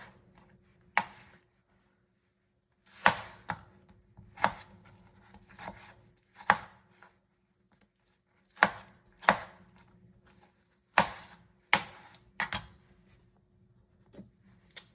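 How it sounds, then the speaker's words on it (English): A knife chops vegetables into small pieces on a cutting board, with sharp isolated thuds and quick clustered strikes spaced by pauses in a quiet kitchen. "I'm just going to cut them into fairly small pieces"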